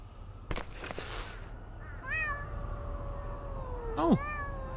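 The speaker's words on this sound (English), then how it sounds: "I want to see a virtual cat." A virtual cat in the video game Thirty Flights of Loving meows twice, clearly and at moderate volume. The calls come a couple of seconds apart over quiet background ambience, with a few soft clicks before them.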